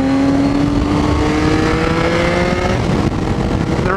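Ducati 959 Panigale motorcycle engine on an early morning ride, loud, close and steady with a rising, droning tone, continuous throughout.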